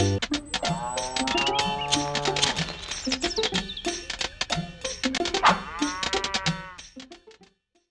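Several cartoon cows in the 1999 Thomas & Friends Great Festival Adventure PC game moo in overlapping, drawn-out calls, loud and close, with brief pauses between the lowing.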